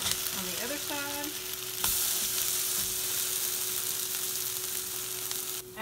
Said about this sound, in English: you start with some butter in a pan. Flip it for 2 minutes on the other side.